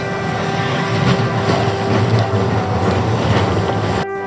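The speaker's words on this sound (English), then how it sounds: "the tram will take us just along the river to the beach." A tram in Porto rolls steadily along the river with a constant rumble and a whining electric hum, ending abruptly.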